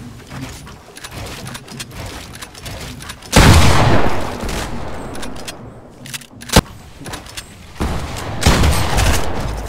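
Fortnite gunfire in a game session, with heavy sustained bursts of automatic shots and loud blasts rising in waves, one sharp crack between them and no voices over it.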